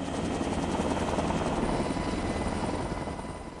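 A helicopter flies over the Sequoia National Forest in California during a raid on illegal plantations, its rotor chop and engine whine forming a steady, loud, close drone with no talk.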